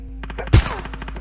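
Single loud gunshot burst from a Free Fire battle royale match, sharp and close, standing out briefly over steady game background noise.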